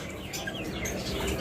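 A caged pet bird, offered for sale among lovebirds, cockatiels and budgerigars, gives a few faint, quick chirps over a low background hum.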